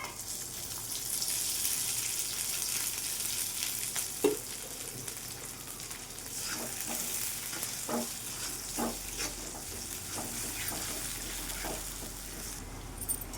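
Onions fry in oil in a pan for a village-style dry drumstick-pod curry: a moderate, continuous sizzle with irregular stirring scrapes and taps, heard up close without talking.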